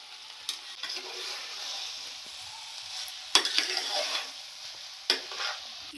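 Cooked rice and fried prawns being stirred into prawn biryani gravy in a pot, soft scraping and gentle sizzling with a couple of sharper spoon scrapes against the pan, no talk.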